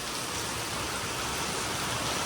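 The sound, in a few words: heavy unseasonal rain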